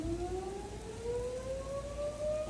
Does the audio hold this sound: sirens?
yes